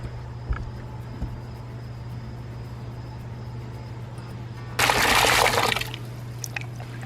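Hand rinsing of a wool fleece in water: a steady low hum for several seconds, then a loud burst of splashing and sloshing lasting about a second before it quiets.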